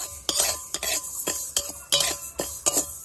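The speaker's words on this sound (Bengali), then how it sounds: "মেথি নেড়ে নিয়েছি" Fenugreek seeds stirred in a hot iron karahi on the stove, a spoon scraping and clinking against the pan in about seven sharp, evenly spaced strokes, with a faint dry sizzle between them.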